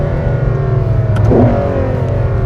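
A Ferrari 12Cilindri V12 drones loudly and steadily from inside the car on the road, its engine note rising and falling briefly as it moves through a gear change.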